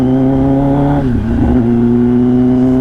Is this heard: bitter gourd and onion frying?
no